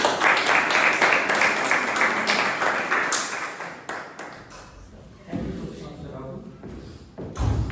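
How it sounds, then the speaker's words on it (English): Audience clapping at a Toastmasters club meeting, a dense burst of applause for about four seconds before it thins out and a voice takes over. "A big round of applause."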